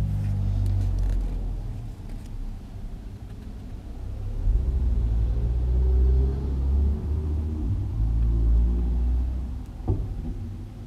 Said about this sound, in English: Why are the cars so loud? So many loud cars.